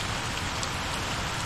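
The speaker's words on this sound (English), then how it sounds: "Probably the heaviest downpour we've had, I think." Heavy rain downpour during a storm at an off-grid property, a dense, even hiss of rain pounding surfaces nearby, steady and unbroken with no voices.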